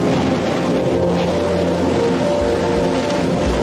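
A Rocket Lab Electron rocket lifting off from its Virginia launch pad roars as a dense, steady rumble with broad low-frequency power, loud and continuous throughout, with no voices.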